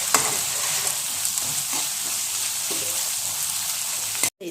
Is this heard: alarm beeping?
no